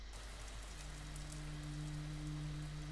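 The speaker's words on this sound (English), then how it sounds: "Oh, it's raining." Rain in a music video, a dense continuous hiss of falling drops, faint and steady throughout, with a low constant hum beneath it.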